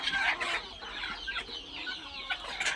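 Laying hens in a poultry shed cluck and chatter in a busy overlapping flock, a steady layer of fowl calls close to the listener with no speech.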